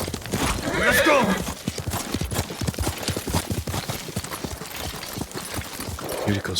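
Yuriko's horse in the Ghost of Tsushima video game, a loud close whinny followed by a steady run of hoofbeat clip-clops, with music and ambience underneath.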